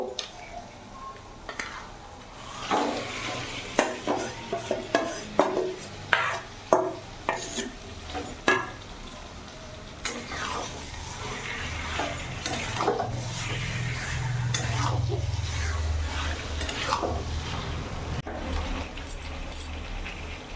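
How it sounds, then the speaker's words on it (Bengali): Marinated chicken for a Hyderabadi chicken dish fries in a pan while being stirred, with a run of scraping and clattering strokes over a steady sizzle that grows louder and fuller toward the end. "ভালো করে নাড়াচাড়া করে নিচ্ছি"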